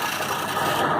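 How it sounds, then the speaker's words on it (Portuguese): A roughing gouge held as a scraper shaves a fine finishing cut on spinning wood on a lathe, giving a continuous, close, even rasping hiss that stays steady for the whole moment. "A gente também utiliza a goiva de desbaste, mas fazendo a mesma função, ó, como um raspador."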